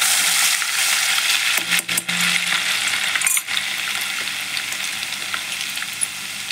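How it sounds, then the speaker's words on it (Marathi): Ginger and garlic sizzle loudly in hot oil in a wok for carrot pickle, a dense continuous crackle close by, briefly dipping as pieces drop in and are stirred with a few metallic clinks. "मी इथे कढईत तेल तापायला ठेवलं आहे लोणच्यासाठी. छान तापलेलं आहे ते. त्यात आता आलं आणि लसूण टाकून घेते."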